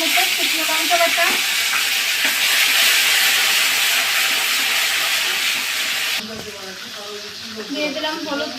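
Ginger-cumin paste and dry red chilli paste fry loudly in hot oil with bay leaves, a dense close sizzle that steadies then softens slightly as the paste settles, with occasional stirring.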